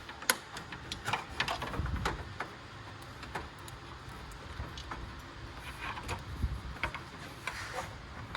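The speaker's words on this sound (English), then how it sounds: "To pull your grill off, you want to get all these clips undone on here" Plastic grille clips on a 2014 Ram 3500 pickup being pried loose, giving a scatter of small sharp clicks and snaps spread unevenly throughout, close by against a faint mechanical background.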